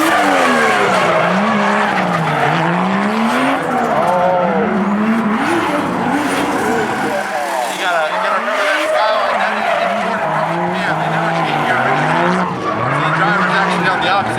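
Turbocharged drift car engines rev and wail with rising and falling pitch through a corner in a twin drift, tires squealing as they slide, loud and sustained, with a voice talking over it.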